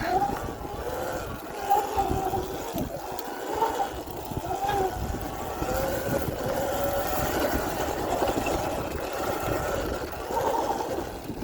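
A Sur-Ron electric dirt bike with a KO Moto controller and stock battery climbs a steep trail, its motor letting out a wavering strained whine over constant rumbling wind and terrain noise.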